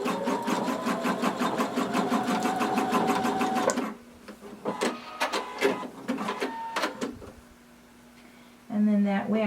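A sewing machine stitches a folded tie onto swimsuit ruching, running steadily in a fast rhythmic hum, then in short stop-start bursts, then resuming loudly, close up.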